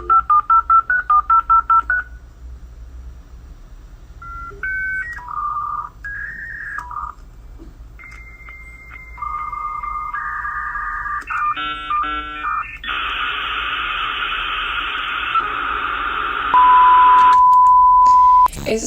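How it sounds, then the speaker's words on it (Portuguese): Dial-up internet modem connecting: rapid DTMF dialing tones, then a sequence of beeps, warbling handshake tones and a sustained hissing static burst, loud and alone. "Esse som é nada mais, nada menos do que a famosa internet discada."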